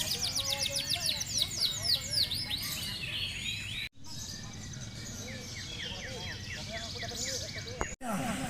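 Songbirds at a bird singing competition chirp and trill busily, many overlapping calls close by and fairly loud, with a couple of abrupt breaks in the sound.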